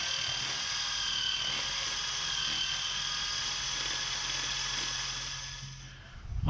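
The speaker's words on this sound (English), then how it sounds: "drilling some holes to fill the holes with the fat balls and seed." A power drill bores holes into old garden wood, a steady whining drone held loud and close for several seconds before tapering off near the end.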